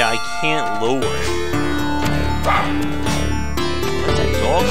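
Dog barking in the side-scrolling video game Battle Princess Madelyn, short yips over loud chiptune-style game music, with a person talking over the top.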